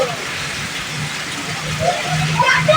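Heavy rain pours onto a street outside a shop, a steady hiss of water throughout, growing somewhat louder toward the end, with faint background sounds mixed in.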